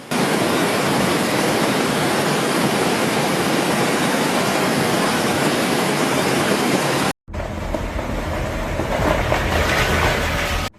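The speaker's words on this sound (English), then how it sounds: "The parking lot transforms into a river in just seconds." Floodwater rushes through a parking lot during a violent storm as a loud, dense, steady roar, cut by a brief break before the torrent continues.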